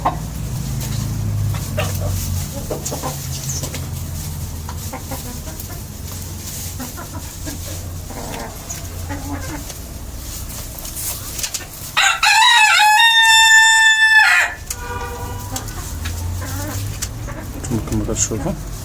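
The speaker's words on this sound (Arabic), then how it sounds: "الدجاج ناشط و تيعجبو يدوش فيها" Chickens in a coop with steady low clucking and farmyard murmur, then a loud rooster crow of a couple of seconds close by, followed by a fainter answering crow, with a voice talking throughout.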